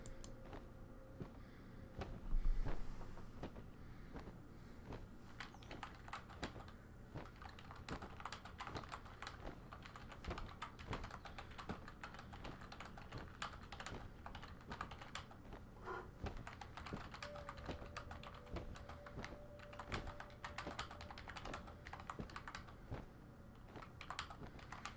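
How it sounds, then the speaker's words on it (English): Someone types a quick message on a computer keyboard while playing a game, with rapid, uneven key clicks that go on for the whole stretch over a quiet background hum. "Just typing a quick note to Metro here."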